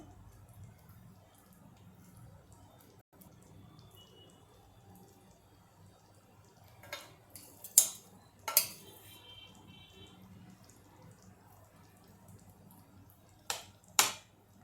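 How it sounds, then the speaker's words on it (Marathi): A spoon fluffing cooked rice in a pot for a Parsi veg dhansak meal, heard as a few sharp metallic scrapes and clinks against the pot, close and distinct, over a low steady kitchen hum. "चमच्याने हा राईस छान मोकळा करून घ्यायचा"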